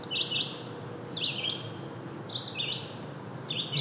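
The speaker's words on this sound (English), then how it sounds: "Hear the birds chirping." Birds chirp on a calm morning disc golf course in natural surroundings, with repeated quick bursts of high twittering calls spaced a second or so apart over a soft ambient background.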